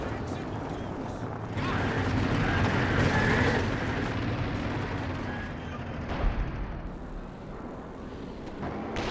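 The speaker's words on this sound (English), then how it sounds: "They seem to have a high friendly fire multiplier, those cluster bombs." Rolling cluster bomb explosions and battle noise in the World War II strategy game Company of Heroes 2, a dense, continuous barrage of booms and crackling blasts with a sharper bang near the end.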